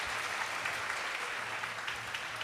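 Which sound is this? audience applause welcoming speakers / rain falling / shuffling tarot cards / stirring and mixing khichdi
audience applause welcoming speakers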